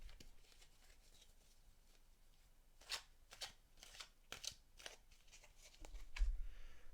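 Deck of tarot cards being shuffled, a series of soft crisp riffling bursts at close range, with occasional quiet speech between them.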